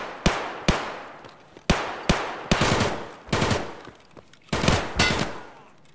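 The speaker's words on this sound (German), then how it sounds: "Seit wann schießen denn die PMCs auf Scavs?" Gunfire in Escape from Tarkov comes as several separate short bursts a second or so apart, each a sharp crack with a ringing tail.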